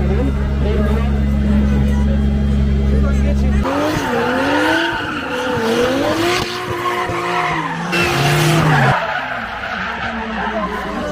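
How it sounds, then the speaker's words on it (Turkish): Drift cars at a drift day event skid through long wavering tire squeals over roaring engines, loud and continuous, with layered screeches rising and falling as the cars slide. "Bugün bir drift günü vardı."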